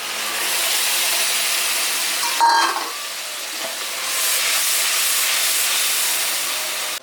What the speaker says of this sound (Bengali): দিয়ে দিচ্ছি পেঁয়াজ, টমেটো আর কাঁচা লঙ্কা বাটা